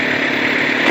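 A Suzuki Hayabusa superbike idles with a loud, steady, dense engine drone, close and alone with no voices over it.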